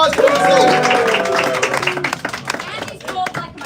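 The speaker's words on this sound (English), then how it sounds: "Give John a round of applause" A live comedy audience claps in a burst of applause that starts loud and full, then thins into scattered claps as a voice speaks over the fading end.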